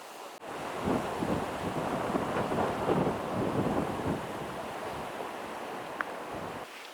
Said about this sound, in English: I'm glad I had the shell layer because it's windier at the top here